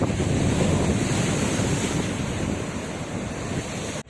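Sea waves wash up steadily at a beach cafe in Ras El Bar, a continuous close surf roar with wind buffeting the microphone and no pause across the stretch.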